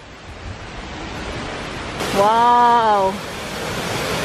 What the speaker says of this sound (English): Amazing waterfalls in Cebu City.